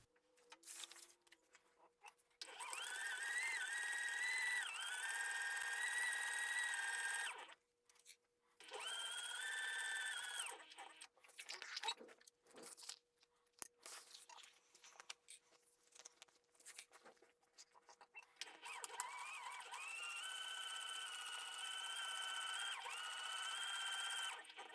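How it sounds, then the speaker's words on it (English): A sewing machine stitches straight across fabric panels for a pool tote, running in long steady whirring runs broken by brief stops and small handling noises. "we are going to stitch straight across this line"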